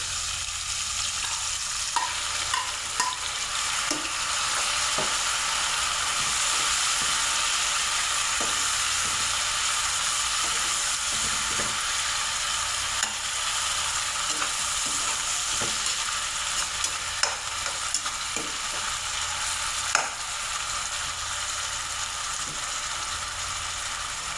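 Meat frying with tomatoes in a pan, a continuous close sizzle with repeated scraping and clicking stirring strokes spaced through the clip, no one talking.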